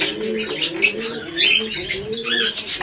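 Domestic pigeons coo close by during a morning feeding and watering, with soft repeated low throaty coos and occasional higher chirps and faint wing movement, no talking.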